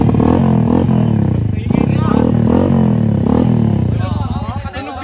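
A big bike motorcycle fitted with an SC Project exhaust revs in repeated loud, rising bursts, with a clattery rumble and people talking nearby.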